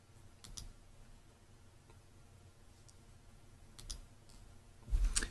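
A computer mouse clicks while selecting an article, a few faint, sharp clicks spread across a quiet background, with a louder cluster of clicks near the end.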